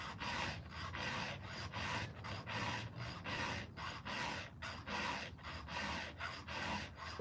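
A hand file rasps rhythmically across chainsaw teeth during sharpening, about a dozen even back-and-forth strokes, close and clear with no talking.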